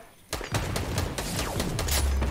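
Rapid bursts of gunfire in the video game Fortnite crackle continuously and loudly, overlapping into a dense volley after a brief quiet start.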